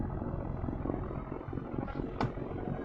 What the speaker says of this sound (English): the helicopter engines there are spinning right now, both of them spinning, creating that stabilizing effect